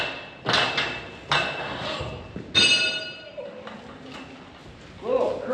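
A hammer pounds a wooden top bar through, three or four heavy, ringing blows spaced about a second apart, close and loud, with a voice speaking briefly near the end.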